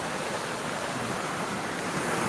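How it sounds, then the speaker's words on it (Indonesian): A fast, heavily flowing river gives a steady, dense roar of rushing water, close and constant with no pauses and no voices. "Ini ada sungai yang sangat deras sekali."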